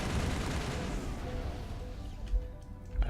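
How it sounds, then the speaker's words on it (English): Sniper fire in the PC game Mass Effect 1 comes as a dense, loud volley of gunshots early on, followed by sharper isolated cracks as it thins out. "Let's stay behind cover so we don't get hit by the sniper fire."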